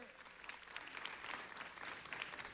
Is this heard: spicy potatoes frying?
no